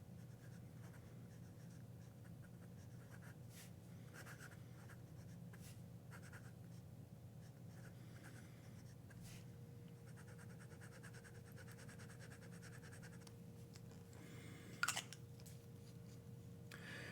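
A fountain pen moves across a pad of Yamamoto paper in a quiet room, giving a soft, steady scratch of writing throughout, with one brief louder tap near the end.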